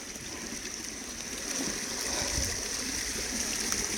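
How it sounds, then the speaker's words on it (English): A small waterfall at a digging and sluicing spot pours in a steady, rushing splash that stays at an even level throughout, close by and with no talking. "It's got a little waterfall going here."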